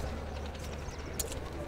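A Kagzi pigeon of the Punjabi breed coos faintly against a steady low background hum, with a few soft, brief calls and no clear voices.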